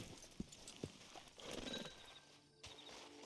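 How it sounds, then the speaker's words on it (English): Horse hooves clip-clop at an uneven walking pace in the Red Dead Online video game, faint and in the background, with a brief whinny among the steps. "Get on the horse there."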